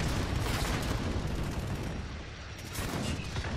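Dense gunfire from a Call of Duty Modern Warfare Hardpoint match, a continuous loud wash of shots and explosions with no clear breaks across the whole stretch.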